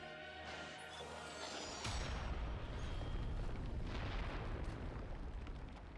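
Wave cannon special-attack explosions in a video game crash in as a dense, roaring burst of booms and crackling blasts that sustains for several seconds after a tonal intro, then tapers.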